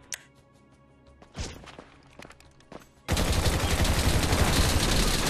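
Dense, sustained gunfire in GTA 5 Online erupts loud and continuous after a few scattered thumps and impacts, filling the rest of the moment with rapid overlapping shots.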